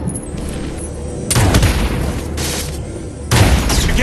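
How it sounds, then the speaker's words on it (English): Artillery barrage explosions land in the video game Paladin Strike: two heavy, broad booms strike a couple of seconds apart, each followed by a rumbling decay over a busy game background. "Barrage incoming!"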